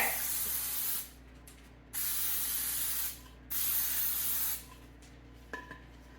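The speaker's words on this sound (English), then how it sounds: "And so I like to spray them because when you get these fancy pans, it's really hard to grease them with shortening or butter" Cooking spray hisses from an aerosol can into a large fancy cake pan in three loud bursts of about a second each, with short pauses between and a faint clink at the end.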